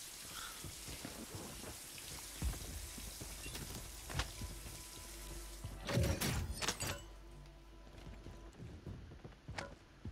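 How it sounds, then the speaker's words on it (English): Rain showers in Call of Duty Warzone Resurgence: steady, soft rainfall hiss with distant thunder rumbles and a louder crack near the middle, quiet overall. "Crazy, you can hear the showers up here."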